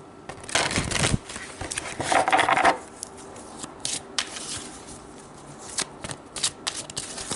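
A deck of tarot advice cards is shuffled up close, with crisp riffling bursts and softer intermittent flicks and taps.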